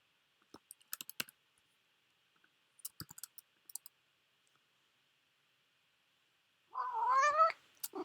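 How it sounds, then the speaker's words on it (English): A cat lets out one drawn-out, wavering meow near the end, close and clear, after a stretch of scattered soft keyboard-like clicks in a quiet room. "What's the matter, my precious cat?"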